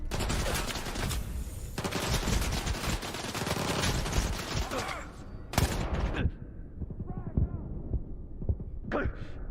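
Gunfire in the video game Stalker, dense bursts of automatic shots and impacts that thin out into scattered single cracks, loud and close, mixed with game ambience.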